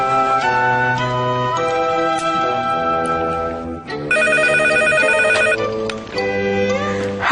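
A telephone rings in repeated bright electronic trills, loud and close, with a brief pause between bursts and no voices over it.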